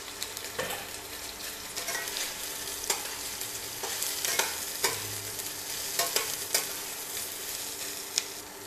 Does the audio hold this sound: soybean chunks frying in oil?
yes